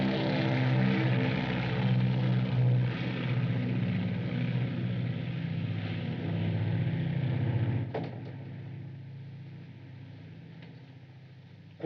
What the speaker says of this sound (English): It's only the mail plane for London.